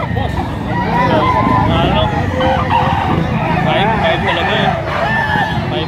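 Rooster crowing amid the din of a poultry market in Lipa, Batangas: repeated wavering calls overlap with steady crowd babble and people talking nearby throughout.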